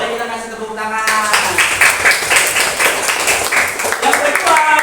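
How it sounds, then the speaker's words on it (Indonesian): A classroom of students claps their hands together in applause for a student's correct answer, a dense, sustained patter of many hands filling the room after a brief spoken prompt from the teacher. "Nah, boleh kita kasih tepuk tangan."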